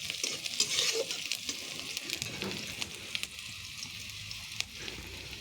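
Vegetable curry cooked with little oil being stirred and fried in a pan, a soft continuous sizzle broken by frequent quick scraping strokes and light taps of the spoon, fairly quiet and close, with no talking.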